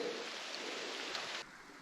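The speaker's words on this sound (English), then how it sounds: "hopefully let the rain pass for a little bit" Rain falls steadily on a bush hike near Goochs Crater in the Blue Mountains, NSW, a soft, even hiss of drops on foliage, faint and continuous with a slight drop in level near the end.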